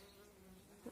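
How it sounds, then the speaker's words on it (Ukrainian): A bee buzzing close by among garden flowers, a steady droning hum that holds for under a second, with a faint outdoor background. "Бачите, стільки тут бджолок."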